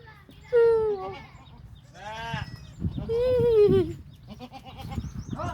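Young goats bleat repeatedly in high, wavering cries, several calls close by with brief pauses and some background shuffling.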